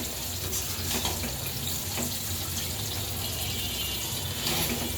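Chicken and vegetable fried rice sizzles in a pan with a steady, dense hiss and scattered crackles, held at an even level throughout.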